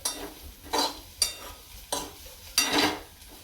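Bitter gourd sautés in oil in a pan, a soft sizzle under five distinct bursts of scraping as a spatula turns the pieces, close and fairly quiet, with no talking.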